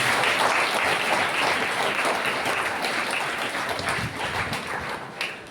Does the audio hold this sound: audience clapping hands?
yes